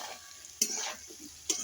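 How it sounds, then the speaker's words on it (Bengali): Kohlrabi and potato pieces with salt and turmeric fry in a pan with a constant soft sizzle, broken by two sharp scraping stirs of a spatula. "ওলকপি আর আলুটা একটু ভালো করে ভেজে নেবো"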